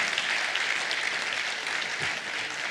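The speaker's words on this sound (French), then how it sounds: "Je pense qu'on peut vous applaudir tous les deux." An audience at a tech-for-good debate event gives steady applause, a dense, even wash of many hands clapping throughout, with no speech over it.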